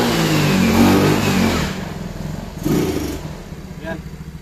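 A Honda Mio Amore scooter with a stock carburetor revs at full throttle, loud and close, then drops back toward a rough, pulsing idle while someone talks over it.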